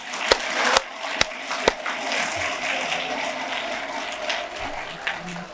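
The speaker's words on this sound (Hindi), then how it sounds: "बच्चों के लिए पूरी ताकत से हाथ उठाकर ताली बजा दीजिए" Audience at a school annual function in Meerut applauding for the children, a few sharp distinct claps at first and then a softer sustained patter of clapping in a large hall.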